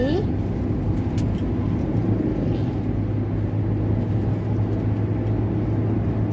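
A manual car cruises at around 70 km/h while being shifted into fifth gear, its engine a steady, close, low drone throughout, with a voice talking over it.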